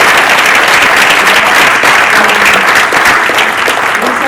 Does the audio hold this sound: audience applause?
yes